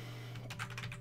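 Quiet computer keyboard typing from a microphone moved away from the desk: a short cluster of soft click-clack keystrokes over a steady low electrical hum, with no voices.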